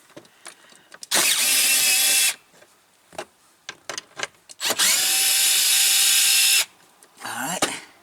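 A power tool spins out bolts on a Lexus GX 460, two loud sustained whirring bursts of about a second and two seconds, separated by light clinks and handling noises, with a short buzz at the end.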